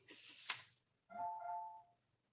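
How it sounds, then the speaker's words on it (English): A loud household doorbell rings with a two-note ding-dong: a sharp first strike, then a sustained lower tone that rings out and stops, followed by silence. "I'm going to run and turn off the doorbell because it's very loud."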